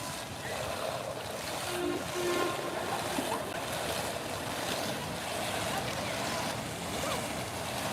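Ocean waves wash and surge steadily on a windy day, with heavy wind buffeting the microphone into a broad continuous roar, no clear breaks between swells.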